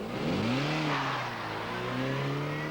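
An Austin Metro, a racing driver at the wheel on a test-drive demonstration, accelerates with a steady engine note rising in pitch, close and continuous under road rumble.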